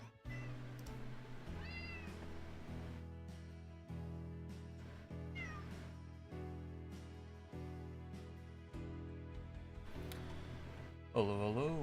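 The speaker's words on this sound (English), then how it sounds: "Oh no, my cat is coming." A pet cat meows several times close by during a late-night home stream, its calls rising over a steady low hum with rhythmic thumps, a final louder meow at the end.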